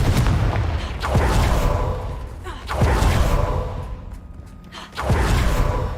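A Confringo explosive spell is cast in Hogwarts Legacy, setting off three heavy booming blasts spaced about two seconds apart, each a sharp burst followed by a rumbling decay, loud and close.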